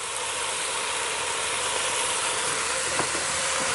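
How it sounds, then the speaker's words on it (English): Yellow split peas and spices frying in a pot, giving a steady, close broadband sizzle and hiss that holds evenly throughout with a few faint clicks and stirring knocks. "it's been frying in all the spices here and all blending"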